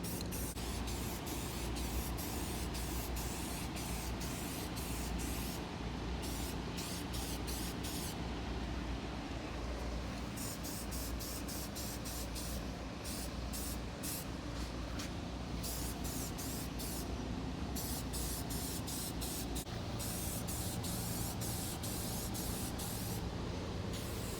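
Primer sprays onto a rusty Minn Kota trolling motor during restoration, a continuous close hiss broken by short pauses as the can nozzle is released and pressed again.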